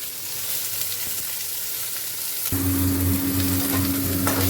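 Onion, green chilli and garlic hit hot oil partway through with a loud, steady sizzle, rising over a quieter frying hiss and continuing close and even to the end.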